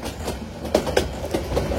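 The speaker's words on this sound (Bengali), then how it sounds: "আমাদের ট্রেনটি এখন ভৈরব বাজার জংশন প্রবেশ করছে।" Titas Commuter train rolling into Bhairab Bazar junction in Bangladesh, a steady low rumble of carriages with several soft rhythmic wheel knocks over the rail joints, heard from on board.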